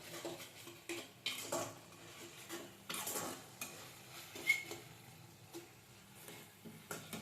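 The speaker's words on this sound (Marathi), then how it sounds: "त्याच्यामधलं थोडं पेस्ट प्रमाणे ऍड करायचं आणि मिक्स करून घ्यायचं." Garlic paste being mixed into Thai kapow chicken in a pan, with a spoon scraping and clinking against the metal in repeated stirring strokes over a faint background sizzle, moderately quiet, no talking.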